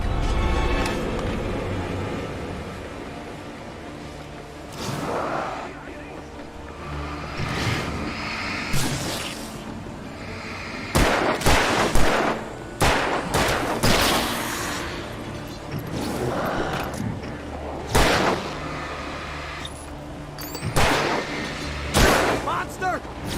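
Scattered gunshots and impacts in Alan Wake Remastered, sharp cracks clustered in quick volleys with quieter gaps between, mixed with people talking and background game noise.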